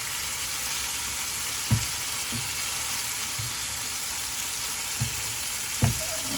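Chicken livers frying in a pan, a steady close sizzle broken by a few low knocks and thumps as the pieces are turned, no voices.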